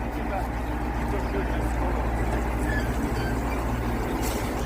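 A T-150 tractor with a YaMZ-236 diesel engine runs at a steady idle, a dense, constant low rumble that fills the scene from start to finish without change.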